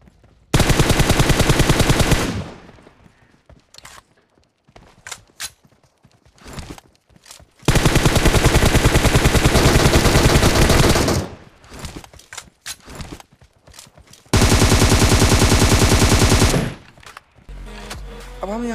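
Gunfire in the video game PUBG Mobile comes as three long, loud bursts of rapid automatic fire, separated by quieter stretches of footsteps and scattered shots.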